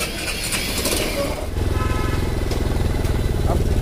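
A Hero Impulse motorcycle engine cranks and catches after a service, then settles into a loud, close, rapid idling putter.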